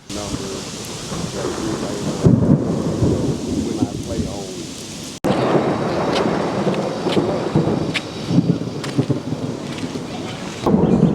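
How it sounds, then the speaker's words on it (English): Thunderstorm in Arkansas with loud rolling rumbles of thunder over steady rain and gusting wind, continuing through a short break in the recording; faint voices can be heard in the background. "So this may be a nice little thunderstorm here."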